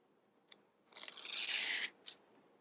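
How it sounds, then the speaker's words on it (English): Backing paper peeled off a piece of appliqué fabric, giving a brief tick, then a steady crackling tear lasting about a second, followed by a short rustle, close and alone in a quiet room. "Let's peel this off."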